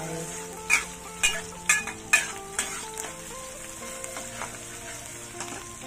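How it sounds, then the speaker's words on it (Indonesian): Garlic and shallots stir-fried in a pan, a steady sizzle broken by a run of sharp spatula scrapes and knocks against the pan that thin out and fade toward the end. "Gaul sehingga bertukar warna guys."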